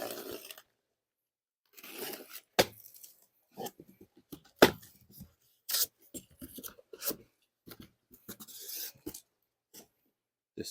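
A blade slices open a package with intermittent scraping and tearing bursts, sharp cuts and crinkling plastic heard close up between short silences, with no talking.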